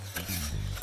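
A spoon scraping and stirring a reducing sauce in a large pan over medium heat, a short close rasping swirl against the metal with faint simmering underneath.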